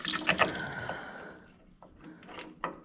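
Fluid splashes and trickles out beneath a Takeuchi TB260 excavator during a 500-hour service, a close liquid pour that fades to scattered drips.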